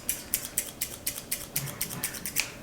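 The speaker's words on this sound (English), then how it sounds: "if you're cutting your hair at home and you're using scissors like this, that sound like this" Sharp, rhythmic snips of scissors cutting hair during an at-home haircut, about a dozen close crisp clicks in a steady pattern with no talking.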